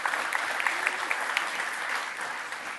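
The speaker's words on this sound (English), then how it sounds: "give yourself a round of applause" Audience applause at a programming talk, steady dense clapping from a crowd, fairly faint and distant, heard alone without talk.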